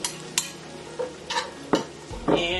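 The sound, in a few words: onions added to a pan and frying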